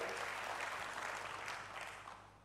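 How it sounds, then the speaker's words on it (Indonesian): A church congregation at a GBI Asemtiga Tegal service claps steadily in a dense wash of applause that gradually tapers off. "Berikan tepuk tangan bagi Tuhan, haleluya."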